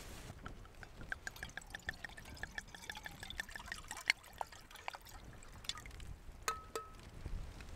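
A small splash of drink is poured at a winter mountain campsite during a storm, a soft, brief trickle and dribble heard close and quiet amid scattered clicks and ticks.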